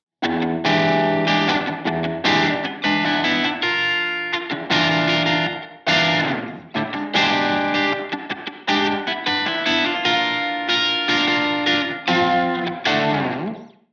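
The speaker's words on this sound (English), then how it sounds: "You can get kind of a slapbacky type effect." Distorted electric guitar chords and notes through a Strymon Cloudburst reverb pedal set to a small room, giving a short, quick slapback echo repeating each attack, loud and continuous.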